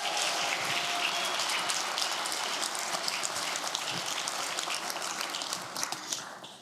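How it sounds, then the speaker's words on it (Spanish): A congregation applauds Pastor David and Pastor Ingrid at a church service, a thick, even roar of many hands clapping that holds steady for several seconds and then thins slightly near the end. "si me darían ese privilegio de dar un grande aplauso para nuestros pastores"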